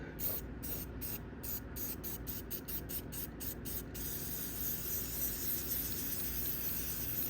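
Aerosol white paint sprays onto a roadside curb as a base coat, close and steady: a run of short, rapid hissing bursts gives way to one continuous hiss under light background noise.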